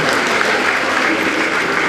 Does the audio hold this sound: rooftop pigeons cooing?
no